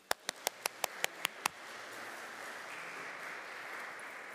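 A small, intimate audience at a campus evening event claps to welcome a speaker. About eight loud, distinct claps come at a steady rhythm over the first second and a half, then fade into quiet room noise.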